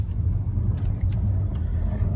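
Cabin of a 2019 Audi A4 in dynamic drive mode while driving, a steady loud low engine and road rumble with a few faint clicks above it and no talking.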